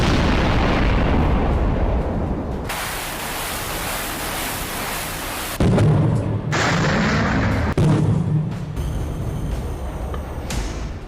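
Explosions and artillery fire in the war in Ukraine, heard as loud, rumbling booms and blasts in several abruptly cut segments, with dense roaring noise between the bursts.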